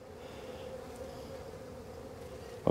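Honeybees buzz in an opened beehive in an orchard apiary, a steady close drone of many bees with a brief louder rustle at the end.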